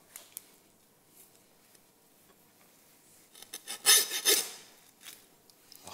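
Hand saw rasps through a pork loin vertebra while butchering, starting with faint scattered scrapes and then a short run of close, harsh back-and-forth strokes.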